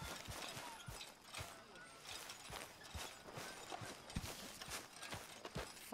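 Horse hooves clip-clop in a steady walking rhythm in Red Dead Redemption 2, close and moderately loud over a faint game ambience.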